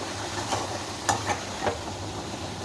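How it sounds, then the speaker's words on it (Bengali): Onions frying in oil with cumin in a home kitchen pan, a soft steady sizzle with a few light stirring clinks, fairly quiet and without talk. "এবার পেঁয়াজটা একটু ভেজে নেবো"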